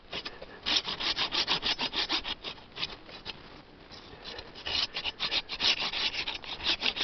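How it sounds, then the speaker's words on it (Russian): A hand garden saw cuts through a tree branch with rapid, rhythmic back-and-forth rasping strokes, close and fairly loud, with one brief slower pause midway. "Так, ладно, отпилим ветку, попробуем сейчас."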